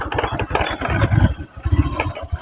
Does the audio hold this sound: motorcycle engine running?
yes